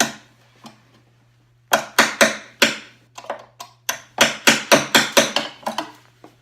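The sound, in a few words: hammering a punch through Ski-Doo hood panel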